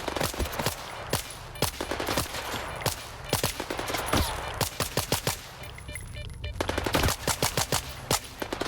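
SMG gunfire in S.T.A.L.K.E.R. 2: rapid, loud, close bursts of sharp shots in quick irregular clusters, with brief pauses between volleys.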